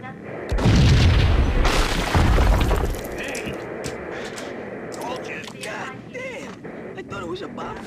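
A bomb explosion in Max Payne, two heavy booming blasts close together early on, followed by rumbling debris and quieter game sounds with a voice talking.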